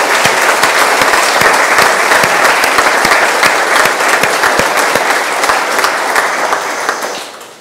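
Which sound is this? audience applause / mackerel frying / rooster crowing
audience applause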